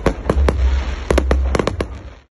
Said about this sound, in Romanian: Seara a culminat la Mamaia cu un foc de artificii.